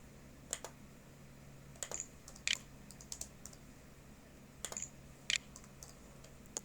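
Sparse keystrokes on a computer keyboard while entering a short label into an Excel spreadsheet: small clusters of light clicks separated by pauses, quiet and close, over a low steady hum.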